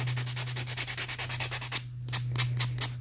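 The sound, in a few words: sanding small scrap wood planter box details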